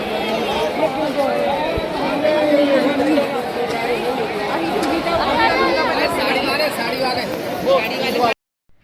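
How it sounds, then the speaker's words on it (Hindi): A large, dense crowd chatters and murmurs in Ayodhya, a continuous loud babble of many overlapping voices close by that runs steadily and then cuts off abruptly near the end. "देख ले भैया, भीड़ देख ले, भीड़"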